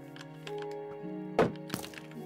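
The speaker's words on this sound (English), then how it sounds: "The skeleton is following me. Oh, and it's shooting at me." Minecraft skeleton firing arrows in the video game, with a sharp cracking twang near the middle and a smaller click after it, set over steady game music.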